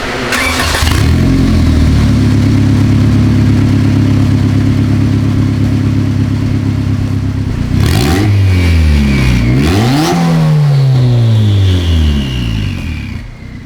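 A Honda Integra turbo engine tuned with Hondata spools and revs up close and loud, a steady drone that swoops through sharp rising and falling rev sweeps partway through.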